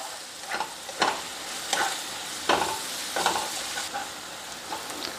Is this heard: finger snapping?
no